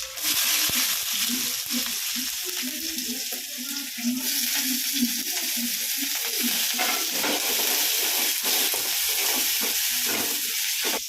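Garlic and onion fry with mustard seeds and lentils in a pan, making a loud, continuous close-up sizzle with spatula stirring and scraping over it, and no one speaking.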